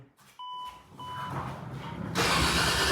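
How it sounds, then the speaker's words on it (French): A Toyota Chaser engine, mid-swap from automatic to six-speed manual, cranks and catches after a couple of electronic beeps, then runs as a loud, steady close-up roar; a loose ring gear is said to rattle in the gearbox. "C'est la couronne qui normalement est plaquée au visco."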